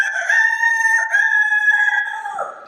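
A man imitates a rooster crowing with a single loud, drawn-out cock-a-doodle-doo that holds a strong tonal pitch before trailing off, heard alone at close range.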